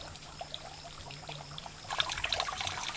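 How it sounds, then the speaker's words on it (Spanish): Water trickling from a thin spring spout at a hillside water source, a soft continuous dribble under faint outdoor background, growing slightly louder with light splashes in the last second. "aquí venimos a traer agua de este chorrito"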